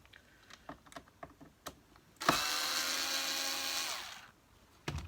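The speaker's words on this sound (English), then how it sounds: "let's get the screws out" An electric screwdriver whirs steadily for about two seconds while removing screws from a 1982 Moulinex Major upright vacuum, framed by faint clicks and small handling taps before and after.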